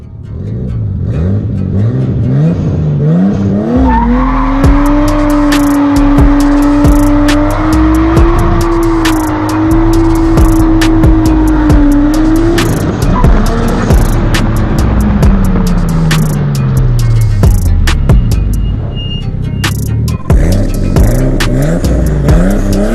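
A car doing a burnout on a road under repair, engine revving hard and held high while the tires squeal loudly and continuously before the note drops away, close and alone without talk.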